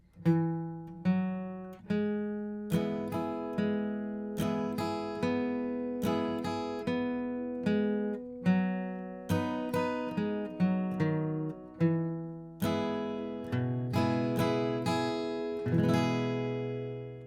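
Acoustic guitar slowly plays the ending of Wildwood Flower, plucking single notes and chords at an unhurried pace, and the last chord is left ringing out to close the piece.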